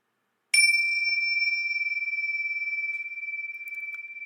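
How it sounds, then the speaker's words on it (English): A single bell struck once for a space-clearing ritual in a home, a bright metallic strike followed by a long, pure ringing tone that slowly wavers and fades, heard alone in quiet. "Ring the bell once more"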